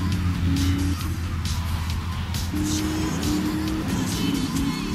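A car in the video game GTA 3 drives with a steady engine hum and shifting engine tones, accompanied by brief tire noise, steady and fairly loud throughout.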